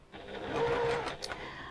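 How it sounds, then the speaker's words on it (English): A sewing machine stitches a fabric beach hut pouch, its steady motor whirr running close and continuous for under two seconds, rising slightly midway with a brief clack near the end. "Pop that under the machine."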